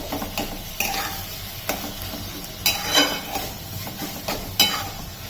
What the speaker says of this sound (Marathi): अशा पद्धतीने व्यवस्थित हा खिमा आपण या कांद्यामध्ये छान परतून घेऊया